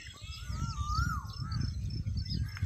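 Birds call across village fields with a wavering whistled note that rises and falls over low, rumbling outdoor noise. Faint chirps sit in the background.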